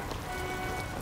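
Steady rain falls on a set built for a black-and-white scene, a dense, even patter running without a break through the whole second with no voices over it.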